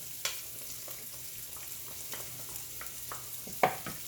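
Garlic frying in a pan while spaghetti is cooked, with a low steady sizzle and a few sharp clicks and stirring scrapes scattered across the few seconds, fairly quiet and with no talking.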